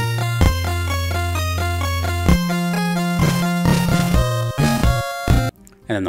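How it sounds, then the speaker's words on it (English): Chiptune music from Castlevania II, a sustained low pedal tone droning beneath bright, busy square-wave melody and harmony; steady and loud throughout, dropping out briefly near the end. "Yeah, so that's the sound of the pedal tone."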